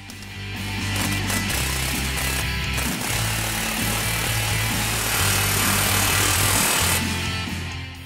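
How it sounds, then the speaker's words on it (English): Power tool, likely an impact wrench, tightening exhaust clamps on a 1999 Mustang with a stainless steel 2-1/2 inch Borla S-Type Stinger cat-back, a loud steady close-up mechanical rattle and whine that runs nearly the whole time with brief dips. "now we can tighten up the clamps."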